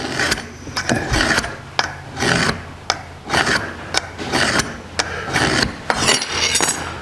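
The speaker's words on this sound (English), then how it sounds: "line those up and scribe" Metal scribe scratching a center line on steel parts for a 1949 Chevrolet gasser's front straight axle lift, heard as a series of short raspy scrapes in an uneven rhythm, close and fairly loud with small clicks between strokes.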